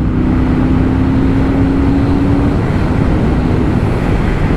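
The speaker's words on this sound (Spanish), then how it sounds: "esta puede sonar un poquito a una Harley acelerando" A 2023 Royal Enfield Super Meteor 650 parallel-twin engine accelerates, giving a loud, steady, close-up rumble with a faint rising tone in the first half and no voices.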